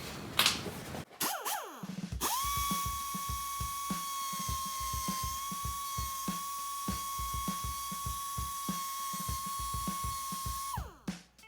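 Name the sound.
cutoff wheel grinding a line into metal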